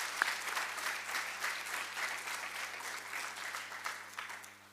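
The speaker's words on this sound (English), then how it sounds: "can we give all of our speakers a massive round of applause?" A conference audience at a youth summit gives the speakers a round of applause, a dense steady burst of clapping from a large crowd that carries on throughout at moderate level.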